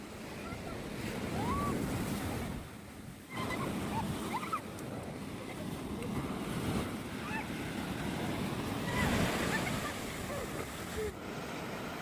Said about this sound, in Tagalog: mas nag-i-enjoy ako kapag ganito kalalakas ang wave ng dagat